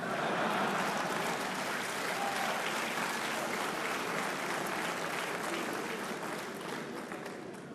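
An audience at a state-of-the-nation address in the Republic of Congo applauds in dense, sustained clapping that tapers slightly toward the end, filling the hall with no speech over it.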